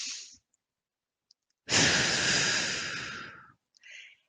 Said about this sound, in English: I'll stop for a moment and take several deep breaths.